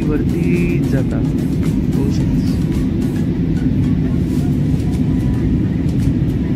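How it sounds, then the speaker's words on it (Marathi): A passenger airliner climbing after takeoff, heard from inside the cabin as a loud, steady engine roar and rumble throughout, with a voice talking over it. "बघा अजून विमान वरती वरती वरती जातात"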